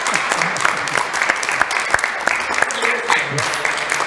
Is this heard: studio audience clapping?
yes